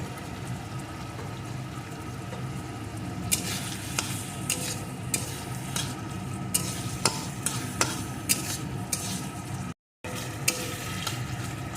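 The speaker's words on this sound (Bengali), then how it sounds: "মশলাটাকে সুন্দর করে ভেজে দেব মশলাটাকে ভেজে" Continuous sizzle of spices frying for a moong dal and pointed gourd dish as a spoon repeatedly scrapes and stirs the pan, brief dropout near the end, nobody speaking.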